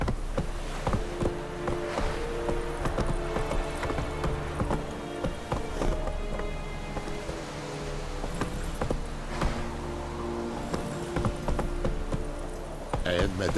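Roach the horse gallops in The Witcher 3, with steady hoofbeats over continuous game music and voices.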